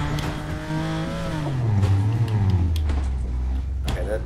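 A car engine drones and revs in Fortnite, its pitch gliding downward as the vehicle slows, loud and close while a voice talks over it.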